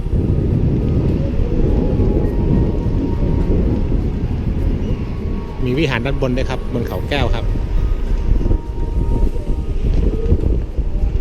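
Strong wind blows across the top of Khao Kaeo hill at a temple in Lopburi, buffeting the microphone with a loud, constant low rumble while someone talks over it.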